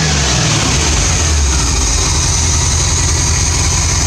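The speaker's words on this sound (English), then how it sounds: "Now, look how steady that engine is," A car engine, recently fitted with a new intake filter, idles steadily at close range, filling the whole stretch with a loud, even, continuous rumble and no talk over it.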